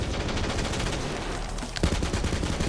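A Gatling gun blazes in Borderlands 3, a dense, continuous stream of rapid shots that stays loud throughout, with a sharper burst or impact near the end.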